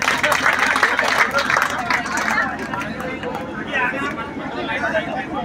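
An audience claps for an MLA at a neighbourhood public gathering in Jaisinghpura Khor. The applause sounds as a dense, fairly close patter mixed with crowd chatter and voices throughout.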